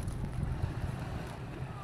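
Rumbling, buffeting gusts of wind battering the microphone by the sea in Mindoro, Philippines, low and blustery throughout the short moment.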